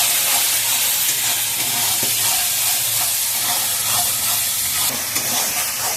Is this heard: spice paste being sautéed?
yes